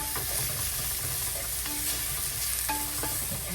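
Tomatoes sautéing in a pan for a dried fish (karuvadu) curry with drumsticks, a steady soft sizzle punctuated by a few light spoon stirs and scrapes, close and continuous with no voices.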